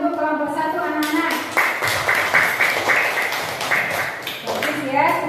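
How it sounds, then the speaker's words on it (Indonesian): Children clapping for a group in a classroom lesson, irregular hand claps lasting a few seconds, with a voice speaking before and after. "tepuk tangan untuk kelompok 1 anak-anak"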